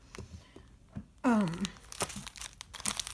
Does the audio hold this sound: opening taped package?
yes